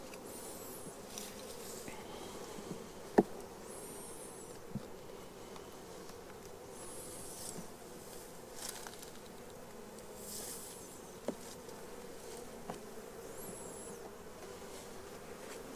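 Honeybees buzzing around an open hive during a beekeeping inspection, a steady soft drone of many wings with individual bees whining past now and then, plus a few faint clicks of handling, quiet and without speech.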